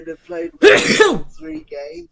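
A sudden, sharp sneeze bursts out in a studio during a football discussion show, one loud blast set between stretches of someone talking.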